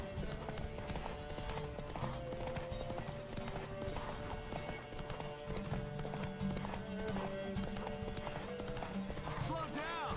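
Roach, the horse in The Witcher 3 game, gallops with a rapid, steady clip-clop of hooves that carries on throughout, heard under game music and someone talking.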